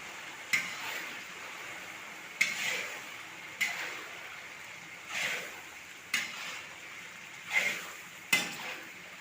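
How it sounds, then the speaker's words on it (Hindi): Eight kilograms of chicken frying with lightly browned garlic in a large pot: a soft, steady sizzle broken by recurring scraping stir strokes and metal clanks about every second or two, fairly quiet and without talk. "इसको हम 2 से 3 मिनट के लिए ज़रा भून लेंगे।"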